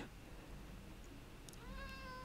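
A cat meows in the Minecraft video game: a couple of short, nasal in-game mewing calls rise clearly near the end over a steady background hum, with no talking.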